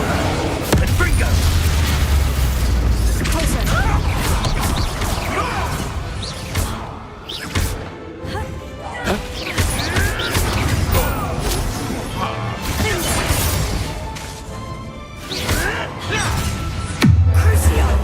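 A Confringo fire spell blasts in Hogwarts Legacy, heavy booms, crashes and whooshes of combat layered over shouted voices through a dense, loud battle mix.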